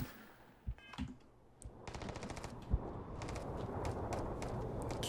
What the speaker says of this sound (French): On nous tire dessus. Qui c'est qui nous tire dessus?